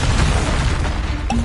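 A Confringo spell explosion in the video game Hogwarts Legacy, a loud, sustained booming blast filling the whole moment, with a brief bright tonal chime near the end.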